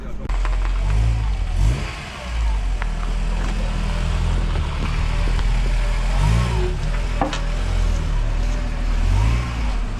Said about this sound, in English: So now we will get the car back inside.